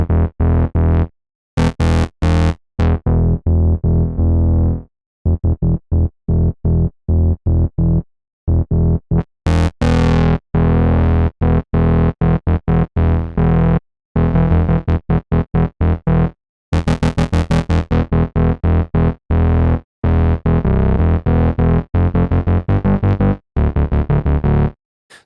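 A DIVA software synthesizer set to high filter feedback gives a buzzy, analog-style distorted tone, played as choppy staccato notes and short bursts with abrupt gaps and some sustained phrases, loud and alone.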